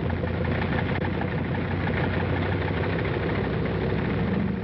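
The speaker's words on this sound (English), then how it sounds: "The sound of the engines warming up starts before dawn" World War II bomber engines warming up before dawn on an Aleutian airfield flanked by mountains, a continuous loud droning roar that holds steady throughout with no voices.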